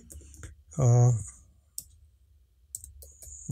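A computer mouse clicking during a Premiere Pro editing lesson: a few sharp, faint, isolated clicks spaced apart, after a short burst of voice.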